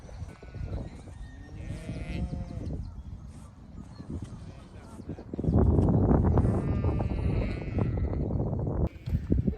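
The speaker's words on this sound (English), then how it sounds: "So our lamb ewes are up in that field, and the two from this morning are out here." Sheep and lambs bleating in an outdoor field at lambing time, several calls rising and overlapping at mid distance, with wind or handling noise and a person speaking at times.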